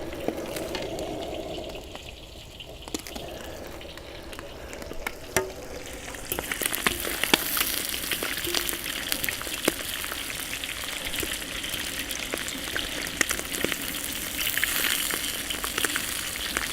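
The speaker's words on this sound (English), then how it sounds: "And you see it splattering a little bit because it is a little bit wet." Wet calamari frying in an outdoor wok, a quieter sizzle that swells into loud, crackling oil splatter with sharp pops after a few seconds, continuing steadily with no voices.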